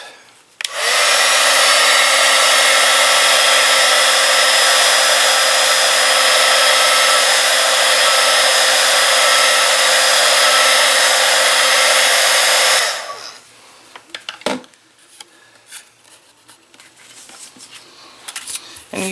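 Heat tool blowing hot air to melt gold embossing powder on a cup, a loud steady whooshing roar for about twelve seconds that then cuts off, leaving soft handling noises.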